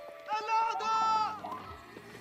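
Sheep bleating in the Age of Empires strategy video game: one clear wavering bleat at moderate level, followed by faint clicks and game sounds.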